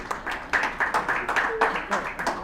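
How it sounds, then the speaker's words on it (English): A room of people claps in a short burst of scattered applause, with voices mixed in under the clapping. "Big round of applause."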